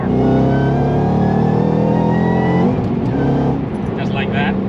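A 700-horsepower 2013 Shelby GT500 revs hard, its loud, close engine note climbing and falling steadily for several seconds before easing off.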